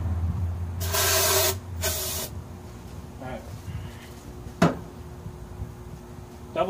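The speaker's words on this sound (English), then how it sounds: "Let me grab some spray assistance." Starting fluid is sprayed into the carburetor of a Troy-Bilt riding mower with a 15.5 HP Briggs and Stratton engine, in two close hissing bursts, the first longer, followed by quieter handling noises.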